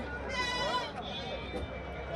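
A lamb gives a short wavering bleat close by at a weekly village market, over a faint background murmur and a voice.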